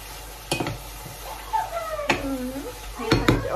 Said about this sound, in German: Und dann lasse ich das noch einmal ein bisschen anbraten. Und werde die roten Paprika noch mal zugeben.